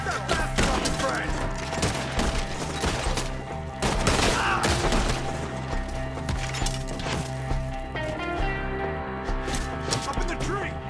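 Gunfire in Red Dead Redemption 2, with rapid volleys of shots and sharp cracks mixed with hoofbeats and game music, loud and sustained throughout.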